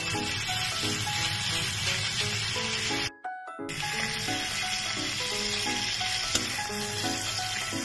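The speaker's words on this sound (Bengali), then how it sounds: "চিংড়ি মাছটা হালকা করে ভেজে নেব, বেশি কড়া করে ভাজবো না" Prawns lightly frying in oil give a steady soft sizzle under background music, with a brief near-silent break partway through.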